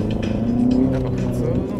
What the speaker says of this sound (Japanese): アクセルを踏み込んで、